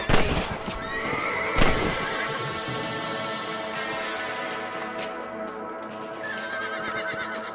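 A horse in the Red Dead Redemption video game neighs loudly twice near the start, then hoofbeats clip-clop steadily, with a second whinny near the end.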